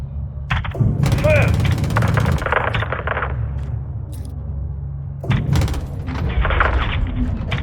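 In the Call of Duty MW2 game, 25 mm cannon and machine gun fire come in two loud bursts of rapid heavy shots with metallic clatter, separated by a quieter lull and mixed with radio-style talk.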